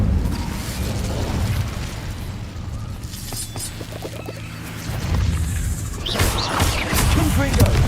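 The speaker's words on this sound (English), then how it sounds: "Incendio." Hogwarts Legacy Incendio fire spell bursting and crackling with crashes and booms, roaring flames swelling again in the final seconds.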